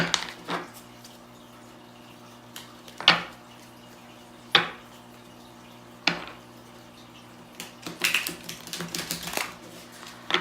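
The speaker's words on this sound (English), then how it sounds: "I already pre-shuffled, but I just feel like shuffling more" Several brisk, crisp riffling bursts of tarot cards being shuffled, spaced a second or two apart, close by in a quiet room.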